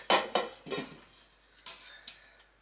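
Chopped rhubarb is tossed into a huge cooking pot, giving a quick series of clattering, knocking hits against the metal that fade between impacts, close and fairly loud with no talk.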